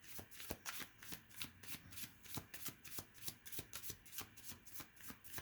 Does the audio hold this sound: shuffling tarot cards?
yes